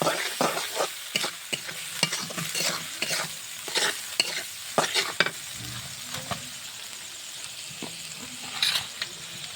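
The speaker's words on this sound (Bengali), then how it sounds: "মশলাটা কষিয়ে নেব।" Spice paste with turmeric and salt frying in a pan while being worked with a spatula: a run of rhythmic scraping stirs over a soft, continuous sizzle, close and moderately loud, with no one speaking.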